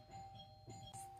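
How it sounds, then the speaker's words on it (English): A faint electronic doorbell chime rings a few sustained tones in a quiet room, soft and distant. "That is my doorbell."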